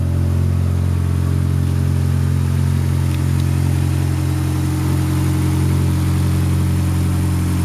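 A car engine settles into a steady idle just after firing up, a loud, close and even drone with a deep hum that runs through the whole stretch without any talk.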